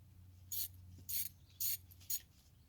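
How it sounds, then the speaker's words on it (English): Battery cable clamps being clamped onto terminals and tightened for a solar setup: four short, sharp metallic ratcheting bursts spaced about half a second apart, close and fairly quiet over a low steady hum. "So we're going to clamp these on and then tighten them up real quick."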